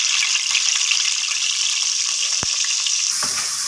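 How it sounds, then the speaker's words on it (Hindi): Chopped onions hit hot cooking oil in a pot, producing a loud, dense, continuous sizzle that hisses steadily throughout, with one brief sharp click in the middle, heard close up and with no talk. "अब मैं इसके अंदर डालती हूँ चॉप किए हुए प्याज।"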